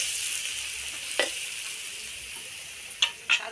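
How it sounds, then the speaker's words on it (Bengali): Food frying in a wok until reddish brown gives a steady soft sizzle, with three brief scraping stirs of a utensil against the pan, close but fairly quiet. "লাল লাল করে একটু ভাজা হবে ভাজাটা আরেকটু হবে বাদামি কালার রং হবে"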